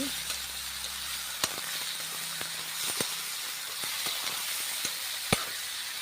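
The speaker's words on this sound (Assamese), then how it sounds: "তাৰপাছতে এতিয়া দি দিম মই মোৰ চব্জিখিনি।" Vegetables frying in a pan, a soft continuous sizzle and hiss broken by sharp ticks and clinks of a utensil against the pan.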